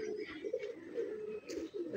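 Moshal pigeon coos softly and repeatedly at close range, a low throaty rolling call in quiet surroundings with no speech.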